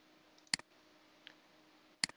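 Two sharp mouse clicks about a second and a half apart, close and fairly quiet, while saving a downloaded file on a computer, with a faint tick between them and no talking.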